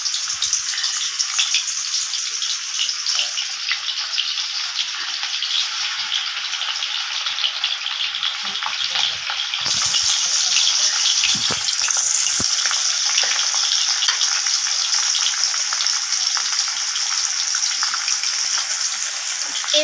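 Turmeric-coated rohu fish fry in hot mustard oil in a pan over a low gas flame, a loud, steady crackling sizzle that continues without a break for the whole stretch, with no talk over it.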